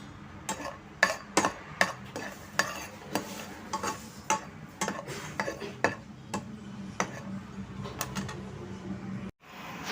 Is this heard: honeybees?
no